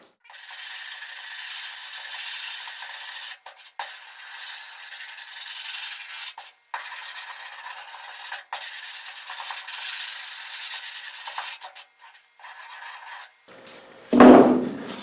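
Body filler on a fender is hand sanded with 80 grit paper in long, steady rasping strokes, broken by several brief pauses, before a louder knock at the end, with no one talking.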